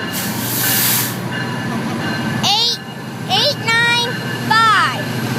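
A Metrolink commuter train departs a Los Angeles station, a steady rumble of rail cars rolling past with several high squealing wheel screeches standing out near the end.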